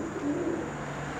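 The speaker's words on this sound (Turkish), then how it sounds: "posta güvercinimiz var. Bunları satmak istiyorum." Young homing pigeons coo close by in Akhisar, Manisa: a soft, low, wavering call heard alone over a steady background hum.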